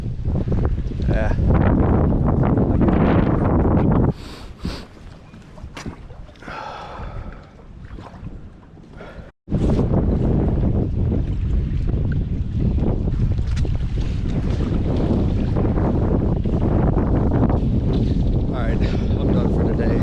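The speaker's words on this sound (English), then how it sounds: "We're supposed to hit a high of 30-mile-per-hour wind day, and I think we're reaching it right now." Strong 30 mph wind roars across the water on a kayak fishing trip, loud and buffeting the microphone almost throughout, dipping briefly and cutting out for a moment before gusting back at full force.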